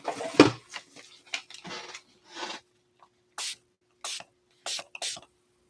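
Spray bottle misting dissolved watercolor paint onto paper: several short, crisp hissing bursts in a steady rhythm, close and fairly loud, following earlier clatter and rustling handling sounds.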